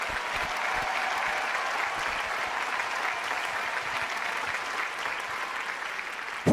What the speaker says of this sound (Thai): ขอเสียงปรบมือด้วยนะ